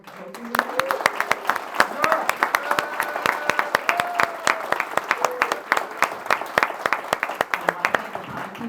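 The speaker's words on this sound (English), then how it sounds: "But now is the time for applause." Applause at a Virginia Senate District 35 Democratic debate, with sharp, distinct claps from a modest crowd repeating unevenly throughout, while voices murmur faintly in the room beneath.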